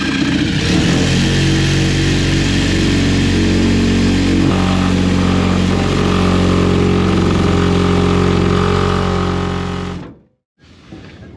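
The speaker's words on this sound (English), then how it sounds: "The Sawzalls are known to be bad at cutting one thing, and that's rubber, so naturally we're using a Sawzall now." A Sawzall reciprocating saw cuts through rubber fuel tank hose on a Dodge Power Wagon with a loud, close, buzzing motor drone held steady for about ten seconds, then stops abruptly.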